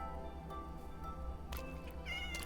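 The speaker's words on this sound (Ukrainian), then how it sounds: "Тож у мене з'явився перший кіт" A black cat gives a few short meows over a constant low hum, the calls close and moderately loud near the end of the stretch.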